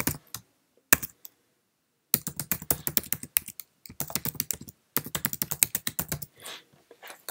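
An email address is typed on a Mac computer keyboard in quick bursts of crisp, close keystrokes, with brief pauses between runs.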